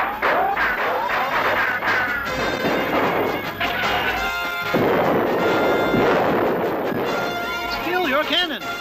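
Cartoon cannon blasts and gunfire crash repeatedly amid loud, busy action, with voices shouting over the din.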